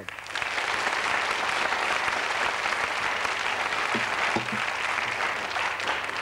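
Studio audience applause on a French television quiz show, a loud, steady wall of clapping that fills the whole stretch without pause.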